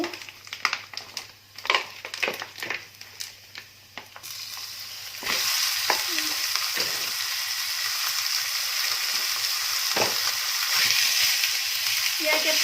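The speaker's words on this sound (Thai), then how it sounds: "ผัดกระเทียม ผัดหมู" Garlic and pork stir-fried in a pan, quiet clinks and scrapes at first, then a loud continuous sizzle takes over with occasional stirring scrapes, close and without talk.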